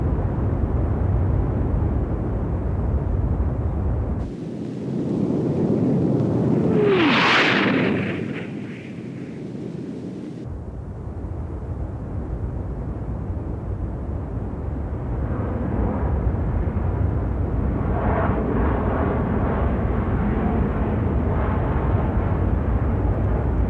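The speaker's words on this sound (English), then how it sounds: "October 24th saw the plane's fourth takeoff" North American XB-70 Valkyrie, a six-engine Mach 3 experimental bomber, taking off with a sustained roaring jet thunder that swells to a harsh peak and then settles into a long, steady distant rumble.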